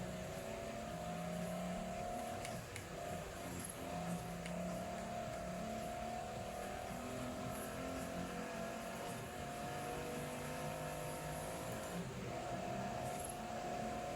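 Racing video game car engine, a heavy machine braking and downshifting, drones loudly and continuously, its pitch rising and falling slightly throughout with no pause, and no voice over it.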